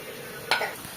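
Chicken bhuna stirred in a frying pan: a steady low sizzle broken by one brief scraping stir about halfway through, close and fairly loud.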